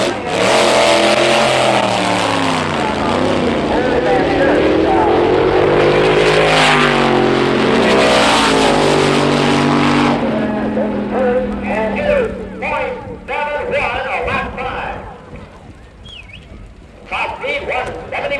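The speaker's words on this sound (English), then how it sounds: "Mickey Thompson's twin-engine rail." Mickey Thompson's 1963 twin-engine rail dragster roars loudly down the drag strip, a sustained high-revving engine howl that rises in pitch, then fades into rougher, more distant engine noise and crackling toward the end.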